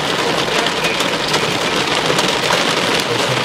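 Heavy rain from a severe storm in Dublin, Indiana, with large drops pounding steadily on a surface, a dense, loud, continuous hiss with no pauses.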